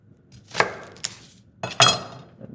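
A kitchen knife quarters an onion on a cutting board while jambalaya is prepared: two pairs of crisp, close chopping strikes with bright crunchy edges, loud and clear, with no talking.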